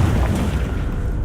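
In Hogwarts Legacy, a Confringo spell detonates with a close, heavy boom, its low rumble lingering briefly before it settles.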